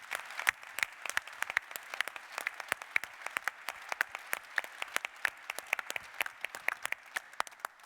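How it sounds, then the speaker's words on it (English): Sparse applause at a Celosphere keynote for Siemens: distinct individual hand claps ring out in an irregular, fairly quiet patter from a modest audience, each clap crisp and separate. "So big round of applause for the trust over all the years."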